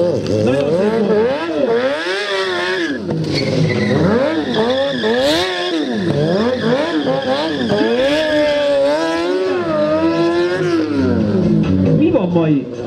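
Racing motorcycles lap a track, their engines loud and near, pitch climbing and falling repeatedly through gear changes and corners in a continuous howl.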